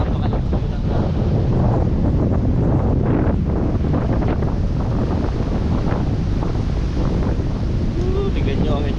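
Strong wind buffets the microphone while Pacific Ocean waves crash and surge on the shore at Dingalan, Philippines, a loud, continuous roar with voices faintly underneath.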